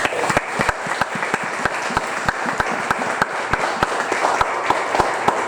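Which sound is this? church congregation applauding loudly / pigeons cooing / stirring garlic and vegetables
church congregation applauding loudly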